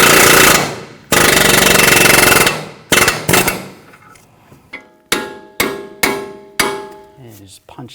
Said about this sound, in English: Now I'm just going to take a punch and just push up underneath the ball joint, push that through.